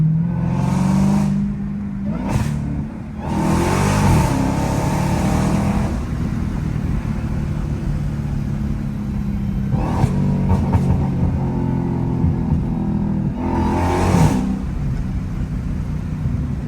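Dodge Hellcat Redeye with a mid-muffler delete, a loud deep engine droning nearby from inside the car, rising and falling with several revving bursts and gear changes.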